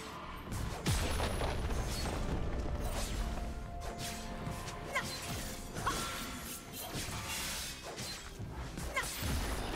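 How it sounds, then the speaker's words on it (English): Turret destruction in League of Legends, a clattering crash of smashing and crumbling impacts with whooshes amid ongoing battle effects, several heavy hits spread across a busy, fairly loud stretch. "Red team's turret has been destroyed."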